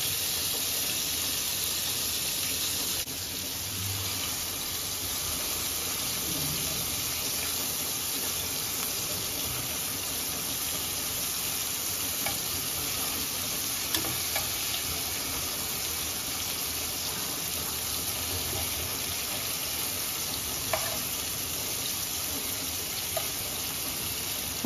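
Prawns and curry leaves fry in a hot pan while being stirred, giving a steady loud hissing sizzle throughout with faint scraping, no talking.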